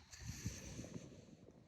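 Wind in Cyprus buffets a microphone outdoors with low, faint gusty rumbles and soft thumps, steady over a quiet background hiss.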